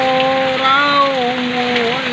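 Heavy rain hisses steadily while a sustained, wavering voice-like tone rises and falls over it.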